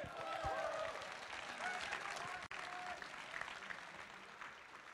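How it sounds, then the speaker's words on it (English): Faint, steady applause from a crowd at a longsword tournament final continues throughout, heard from a distance with a few murmurs mixed in. "A big round of applause for Hannes and his pool making skills."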